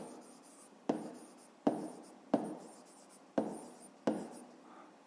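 Pen or pencil writing a fifth-grade decimal math exercise by hand on paper, with soft scratchy strokes broken by six sharp taps as new marks begin, close and quiet with no talking.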